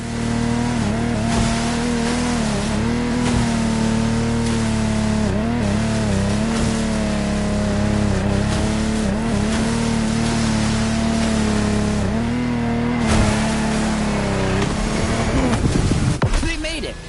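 Lamborghini Technomar powerboat racing in The Crew Motorfest, its engine howling steadily close with rising and falling pitch, water splashing and a voice talking over it, louder surges near the end.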